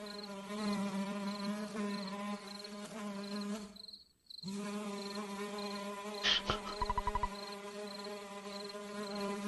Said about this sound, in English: do you hear a buzzing noise that sounds like a beetle flying around?